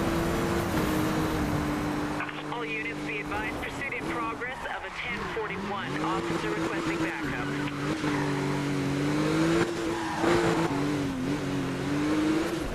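A Porsche 911 GT3 in the racing game Need for Speed: Rivals, its engine revving up and down with shifting pitch and brief tire noise, heard under continuous talking.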